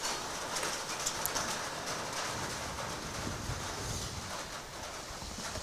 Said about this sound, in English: You can hear that rain coming now.